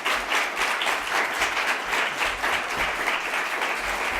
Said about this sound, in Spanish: creo que es un tiempo razonable para dar un gran aplauso al profesor por su ponencia